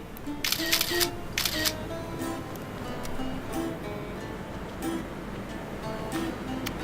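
Several crisp camera shutter clicks snapping a selfie, with a cluster of sharp clicks early on and a few more spaced out later, over a steady low room hum.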